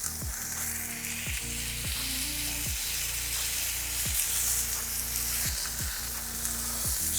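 Smash burgers frying on a hot griddle, a loud continuous sizzle and crackle with regular scraping pushes from a spatula throughout, no talking.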